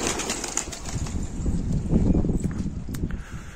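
A flock of homing pigeons flutters and flaps overhead and around a loft, a continuous soft whir of many wings with scattered taps and rustles, fairly close and steady.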